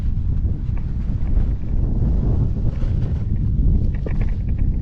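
Heavy wind roars across the Great Salt Lake during kiteboarding, a strong 40-mile-an-hour gust buffeting the microphone with continuous low rumble and no talk.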